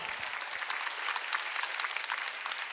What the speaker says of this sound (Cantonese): 我俾啲掌聲鐘仔喎